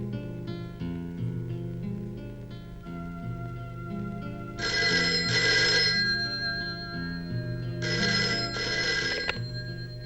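A telephone rings in repeated bursts of bright electronic trilling over a steady background music score, two long ringing spells clearly audible, with no talking.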